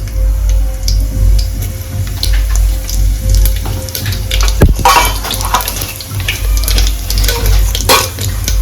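Cumin seeds hit hot oil for a Maharashtrian wal masale bhat (rice with field beans), giving a loud, steady sizzle close by, broken by sharp clatters of stirring and no speech.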